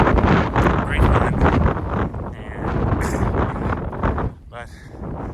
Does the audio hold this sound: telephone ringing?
no